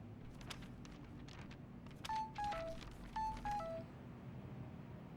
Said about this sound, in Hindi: डीएसपी सर का मैसेज होगा नए फोन से